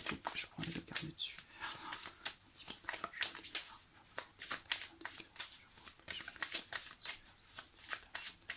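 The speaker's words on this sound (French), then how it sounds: "Je coupe, je prends les deux cartes dessus." A deck of tarot cards is cut and handled in a quick, continuous run of crisp card flicks and shuffling rustles, close and quiet.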